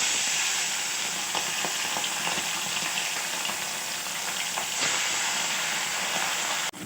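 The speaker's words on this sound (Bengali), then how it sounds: "কথা বলতে বলতে তেলটা গরম হয়ে গেছে। এক এক করে মাছগুলো আমি ছেড়ে দেবো।" Small bata fish frying in hot oil, a steady, close, crackling sizzle with fine popping that continues without pause and with no voices.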